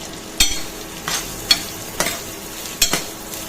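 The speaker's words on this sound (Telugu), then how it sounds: "అది గోలిన తర్వాత ఆనియన్ కూడా యాడ్ చేసుకోవాలి." Chopped onion frying in oil with mustard seeds and cumin in a pan, a steady close sizzle punctuated by five or six sharp spatula scrapes at uneven intervals.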